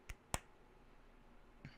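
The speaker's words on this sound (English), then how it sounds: "that was such a quiet clap" Three soft, sharp clicks or small claps, two close together then one after a pause, quiet against near silence.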